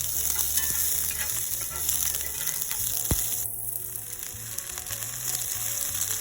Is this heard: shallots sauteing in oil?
yes